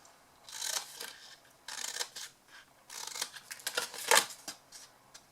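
Scissors trim the corners of a snail-themed Valentine's box. Crisp, close snips come in several quick clusters, with short pauses between cuts.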